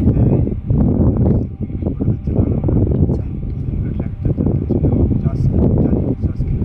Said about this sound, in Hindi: तेज़ हवा होने के कारण इनकी आवाज़ जो है साफ नहीं आई